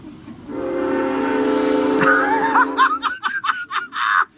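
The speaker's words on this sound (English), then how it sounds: "this train's whistle is loud" A loud, sustained train horn blares for a few seconds, followed by bursts of laughter close by.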